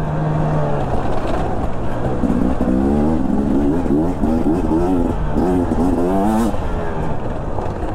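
A Beta 250 RR two-stroke enduro motorcycle rides a dirt course, its engine loud and close throughout, rising and falling in pitch as the rider works the throttle through ruts.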